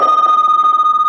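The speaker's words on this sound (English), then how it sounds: "That's just my phone, don't worry." A mobile phone rings close and loud, a bright steady electronic tone with a fast pulsing warble running through the whole moment, with no talking.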